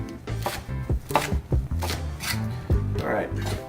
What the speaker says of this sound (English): I'm using the back of my knuckle here to guide the knife as I'm making these cuts